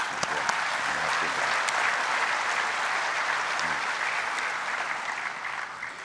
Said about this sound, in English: Will give them a hand, a big round of applause.